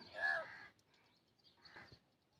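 A single crow caws loudly up front, followed by a fainter, hoarser second call after a short pause.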